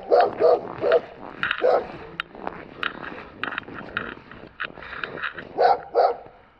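Stray dogs bark in loud, close bursts, a quick cluster of yaps at the start and another pair near the end, with softer whimpering and street noise in between.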